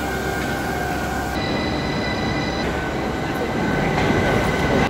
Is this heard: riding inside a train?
yes